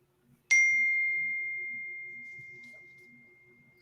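A phone gives a single bright ding notification that rings out and slowly fades over several seconds, heard over a faint low background pulse.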